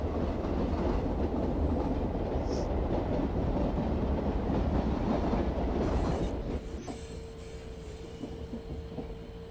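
A train overtakes on the adjacent track beside the moving Karnataka Express, a dense, loud rumble and clatter of wheels that fades noticeably after about six seconds to a quieter hum with a thin whine.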